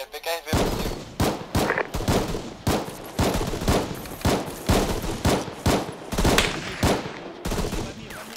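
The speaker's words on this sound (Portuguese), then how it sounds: "a equipe recebe muitos disparos, senhor" Rapid bursts of gunfire from a video game, volley after volley in a fast, steady rhythm, loud and close.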